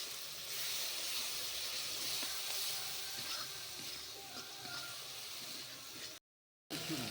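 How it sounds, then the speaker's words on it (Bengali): Ground cumin and coriander masala with red chilli powder fries in a pan for chilli paneer made with flour, giving a steady broadband hiss with faint scraping, continuous for about six seconds before a brief cutout. "জিরে গুঁড়ো ধনে গুঁড়ো মশলাটা ভালোভাবে কষিয়ে নিতে হবে"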